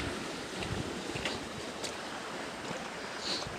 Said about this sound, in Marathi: वड्याला गेला पूर